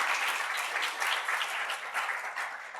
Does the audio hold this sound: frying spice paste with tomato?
no